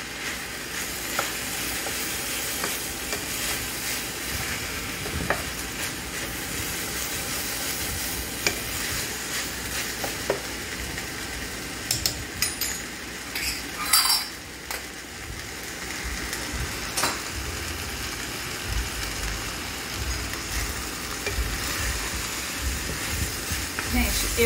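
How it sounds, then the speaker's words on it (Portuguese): Seasonings frying in a pan for a simple baked rice dish, a steady, close hiss of sizzling with scattered crackles and stirring scrapes, while a person talks over it. "Eu gosto de fritar todos os temperos bem fritinho"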